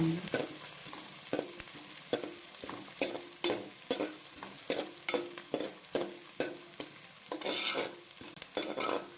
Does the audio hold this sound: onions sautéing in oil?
yes